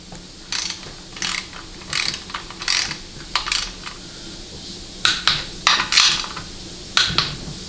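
Torque wrench ratcheting on bolts during a 4L80E transmission rebuild, crisp metallic click bursts repeated in quick strokes, close and fairly loud, with brief pauses between sets.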